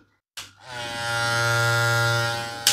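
An electric hair trimmer rated at 7,200 RPM is switched on with a click, then hums smoothly and steadily at close range for about two seconds before a second click shuts it off.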